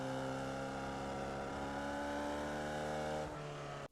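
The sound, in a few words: Formula Vee race car engine accelerating, iRacing video game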